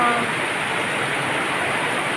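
Heavy rain pouring down during flooding, a dense, steady hiss of falling water close by, unbroken for the brief stretch with no voices.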